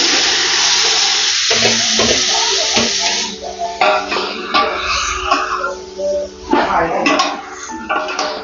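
Pieces of carp go into a pan of hot oil for a sour mixed-vegetable curry. A loud, close hiss of frying breaks into bursts of spattering sizzle and stirring clatter, with a brief cough.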